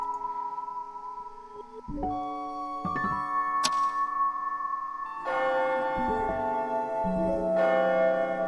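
A bell tolls at midnight, sounding several resonant, ringing strikes in slow succession, each note hanging and layering over the last, loud and with no voices.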